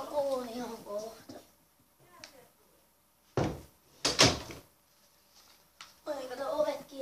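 Doors are shut indoors: a couple of sharp, fairly close thuds and clatters, each standing alone between stretches of quiet, with children talking before and after.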